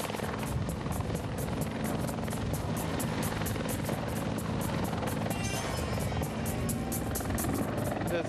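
A loud, steady helicopter roar with a rapid rotor chop that holds throughout, close by and unbroken.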